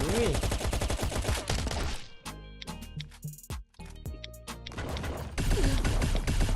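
Gunfire in the video game Last Island of Survival: rapid bursts of loud shots, then a scattered stretch of single bangs and thuds, then heavy sustained firing again, close and harsh.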